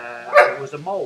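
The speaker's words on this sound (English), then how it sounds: "Sorry about the dog barking in the background." A dog barks once in the background, a short sharp yelp partly under a voice as he talks.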